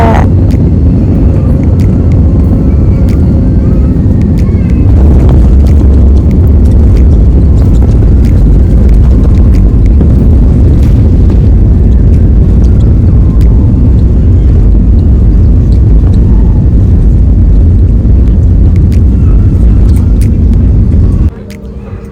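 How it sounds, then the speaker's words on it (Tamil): A passenger airplane lands at Coimbatore airport, heard from inside the cabin as a loud, continuous rumble with a sharper jolt around touchdown, cutting off abruptly at the end. "லேண்டிங்கை என்ஜாய் பண்ணுங்க"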